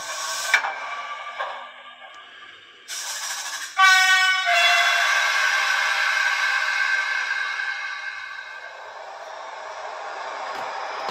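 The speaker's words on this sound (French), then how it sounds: "J'aime bien les coups de sifflet, klaxon, avec un peu de réverbération, l'écho, c'est magnifique." A Piko model BB 8239 locomotive sound unit sounds its horn in bursts, then a long sustained horn blast rings out with heavy reverb and echo, slowly fading.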